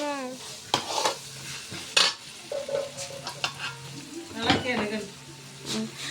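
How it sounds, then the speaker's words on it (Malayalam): Onions sauté in a pan with sizzling under frequent clattering stirs and scrapes of a utensil against metal, plus a few brief voice-like sounds in between. "ഇവിടെ നമ്മളെ ഉള്ളി വഴണ്ട് വന്നോണ്ടിരിക്കുന്നു"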